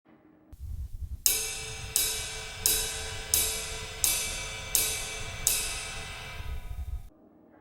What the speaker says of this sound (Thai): สำหรับการเล่นไลท์ซิมเบิล มีลักษณะการเล่นอยู่ 4ชนิด